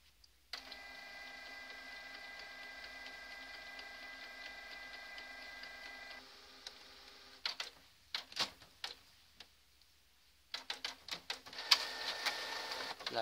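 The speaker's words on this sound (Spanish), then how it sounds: "está imprimiendo y ahora veremos el resultado." A home printer prints an image onto rice paper, a steady whirring feed with tonal motor hum for several seconds, then clicking, clacking bursts and a final rattling pass as the sheet moves through, close and moderately quiet.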